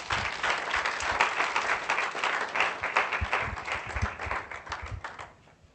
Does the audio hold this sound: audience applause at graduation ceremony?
yes